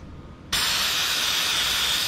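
Brake cleaner sprays in a steady, loud, close hiss onto greasy go-kart bearings, bursting on abruptly after a short quiet lead-in and holding constant to the end.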